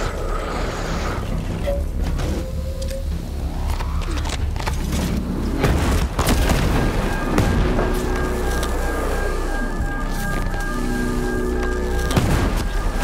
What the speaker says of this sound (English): Yeah, he's definitely shooting at me.